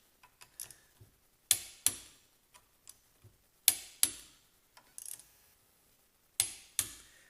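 Bolts on a 168mm limited slip differential are tightened in a cross pattern, heard as sharp, isolated ratchet clicks and ticks in irregular bursts, close and crisp against a quiet background.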